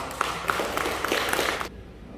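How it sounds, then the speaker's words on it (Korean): Audience applause welcoming a professor to the podium at a lecture hall talk, a steady burst of many hands clapping that stops abruptly, leaving quiet room tone. "이 시간 나오실 때 큰 박수로 환영하겠습니다"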